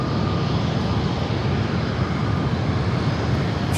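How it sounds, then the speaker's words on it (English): A Boeing 737-700 rolls down runway 27 at San Diego airport, its engines giving a steady, even roar of broadband noise that holds without a break. "as that 737-700 rolls down 27"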